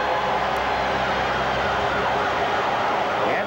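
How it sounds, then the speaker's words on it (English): An arena siren sounds at the end of the second period of a 1984 NHL playoff game between the Edmonton Oilers and the New York Islanders, a loud, sustained blare mixed into heavy crowd noise. "Gretzky clears it off the glass as the siren sounds"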